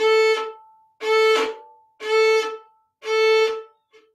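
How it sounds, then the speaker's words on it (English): Four bowed string notes, each ended abruptly with a choked, scratchy cutoff instead of ringing on, followed by a short faint scrape at the end. "If I force it to stop, it chokes the sound like this."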